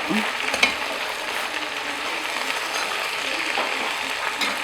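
Fern greens with lime leaves are tossed and stirred in a hot frying pan under a dense, continuous sizzle, with occasional scrapes of the utensil close by.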